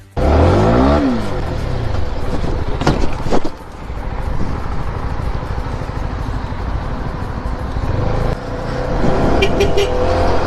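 A motorcycle on a Turkish city street revs hard and accelerates at full throttle, a loud close engine roar with a sharp rising sweep, easing off and then surging again near the end.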